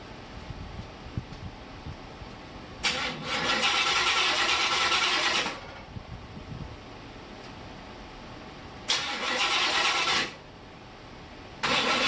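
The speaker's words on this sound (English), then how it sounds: "we're going to start the car up and let the computer start doing its thing" A 1950 Buick engine fitted with a Holley Sniper cranks and catches twice, each burst a loud roar lasting a few seconds before cutting out, with a third attempt starting at the end over a quiet background.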